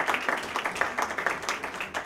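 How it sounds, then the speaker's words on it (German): Audience applause after a panel speech on the future of quality journalism, a steady patter of many hands clapping at moderate distance, fairly quiet and without talk. "Falls Sie Applaus vorhaben, können Sie jetzt den loswerden"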